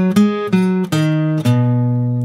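Guitar playing the first measure of a riff, four plucked notes stepping down one after another, clear and close with ringing sustain and no talking.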